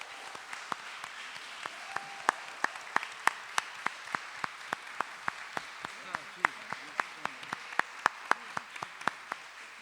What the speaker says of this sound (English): Can we just take a moment to applaud now?